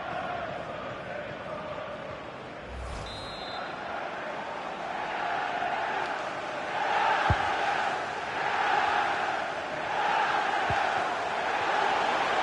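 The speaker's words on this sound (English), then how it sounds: "Being egged on by the crowd." A football match crowd roars in the background, a broad sustained swell of cheering and shouting that builds in the second half, distant and fairly faint.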